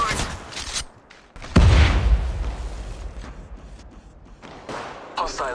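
Bursts of gunfire in Apex Legends Mobile, heavy close shots and rapid volleys with booming low impacts, under game voice callouts and battle noise.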